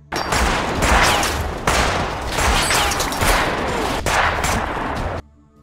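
Movie gunfire in a battle scene, with loud dense bursts of automatic shooting broken by brief pauses, sustained for about five seconds and then cutting off abruptly.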